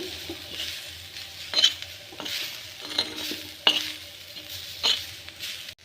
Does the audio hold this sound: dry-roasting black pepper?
yes